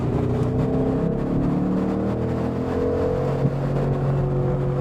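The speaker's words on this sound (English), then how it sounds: "if it's just going to be 10 minutes of engine noise" Ford Mustang Boss 302 V8 engine droning steadily from inside the car, a continuous low rumble with layered harmonics that holds nearly level throughout, no talking.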